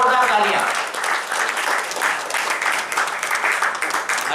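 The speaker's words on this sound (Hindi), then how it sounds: "जोरदार तालियों के साथ श्री नितेश मोदी जी" An audience at an award ceremony claps vigorously as an honoree is recognised, sustained crowd applause with a brief voice at the start, holding steady throughout.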